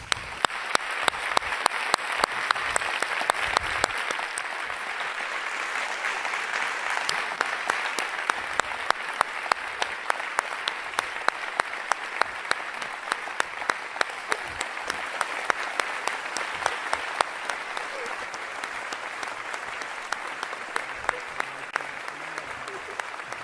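A large audience at the 2024 Nobel Prize in Physics lecture gives sustained, loud applause to laureates John Hopfield and Geoffrey Hinton on stage. The clapping continues for over twenty seconds, with a few voices heard underneath.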